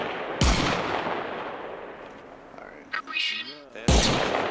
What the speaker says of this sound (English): ignore these shots, I'm just zeroing my gun